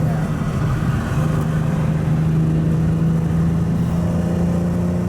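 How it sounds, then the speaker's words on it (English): A BMW E46 M3 coupe engine hums steadily at a constant pitch, cruising at about 70 mph in sixth gear without revving up or down, with road noise filling the background throughout. "I'm bringing it to 70 in 6th gear"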